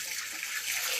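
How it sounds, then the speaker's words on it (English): Vinegar pouring into escovitch sauce, a steady hissing liquid stream, close and continuous for a second with no talk. "and then my vinegar. Pour that in right there."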